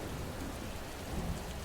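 Steady heavy rain with low rumbling thunder swelling near the end, a storm outside a palace door in a fairy-tale story, continuous and fairly loud with no voices.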